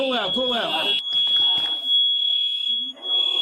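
A smoke alarm gives a loud, sustained high-pitched tone, briefly broken and then resuming, while someone talks over its start and more voices follow.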